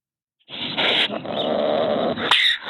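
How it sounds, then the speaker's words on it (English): A harsh, drawn-out call of a ring-tailed cat starts after a short silence and holds loud and raspy for about two seconds, with a short sharper burst near the end. "Ring-tailed cat."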